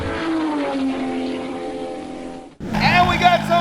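A Lamborghini Huracan with its muffler deleted revs nearby: a loud, droning engine note that slowly falls, cuts out abruptly, then surges back higher and brassier.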